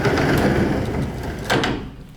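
Sliding doors in an empty apartment's guest bedroom being moved: a sustained rumbling, scraping slide that swells again briefly near the end, close and fairly loud, with no voices.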